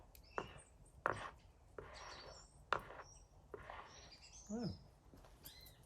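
Birds at a garden bird feeder at dusk give a few scattered chirps and short calls, faint and somewhat distant, with soft rustling between them and no talk.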